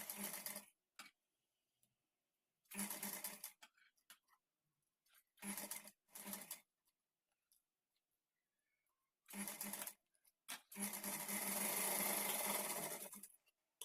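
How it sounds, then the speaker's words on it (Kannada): A domestic sewing machine stitches frills onto the back neck of a blouse in several short, rapid bursts separated by silences, ending with one longer continuous run; no talking. "ನಾವೀಗ ಫ್ರಿಲ್ಸನ್ನು ಇಟ್ಕೊಂಡು ಸ್ಟಿಚ್ ಮಾಡ್ಕೊಳ್ಳೋಣ."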